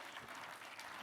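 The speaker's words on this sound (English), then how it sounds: "A round of applause to him as he comes." Audience applause at a corporate sustainability report launch, a brief burst of steady clapping from a crowd, faint and distant-sounding, filling the short moment without talking.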